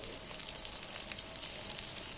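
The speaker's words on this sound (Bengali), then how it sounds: "বাকিগুলোকে উল্টে পাল্টে আরও একটু ভাজতে হবে" Fish pieces fry in a pan for a home-style chilli fish, giving a steady close sizzle and crackle of hot oil with no talk.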